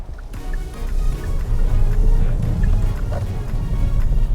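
Four-cylinder turbo engine of a 2020 Kia Stinger 200S under way, a steady low rumble with road and wind roar, continuous and fairly loud with no talking.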